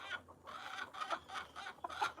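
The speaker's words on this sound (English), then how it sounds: "Them old other chickens was pecking at you." Chickens clucking in a backyard coop, a faint, steady run of soft clucks and murmurs from nearby hens with no talk over them.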